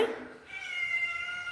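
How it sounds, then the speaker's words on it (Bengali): A house cat meows close by, one drawn-out, wavering cry that starts loud and tails off into a thinner, sustained tone, heard alone with no talk over it. "আর এই যে বিড়ালটা, আয়"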